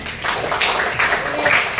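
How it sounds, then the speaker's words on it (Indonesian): Small group of people clapping together in a classroom or community workshop setting, a steady dense patter of hand claps lasting throughout at moderate loudness, close by. "boleh tepuk tangan"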